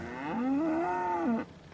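A cow lets out a single loud, drawn-out moo nearby, rising and holding its pitch for about a second before breaking off, with no talking over it.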